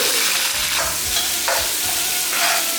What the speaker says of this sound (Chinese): 重新锅刷干净下油，来把6头爆香，葱跟芫荽，把它爆出香味